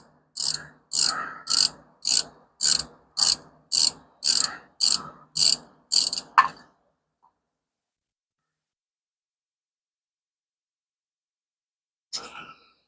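A ratchet wrench clicks through a bolt on a 1971 Dodge Challenger, with about a dozen evenly spaced, close ratcheting strokes over six seconds, then silence broken by one faint click near the end.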